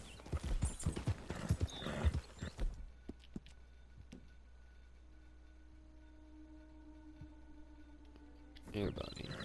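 Video game horse hooves clop in a quick rhythm at the start and return briefly at the end, with a quiet stretch of sustained tones in between.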